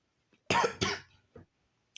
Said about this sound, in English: Sorry, guys, I have a little cough,